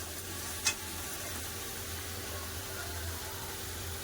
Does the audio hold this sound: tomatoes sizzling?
yes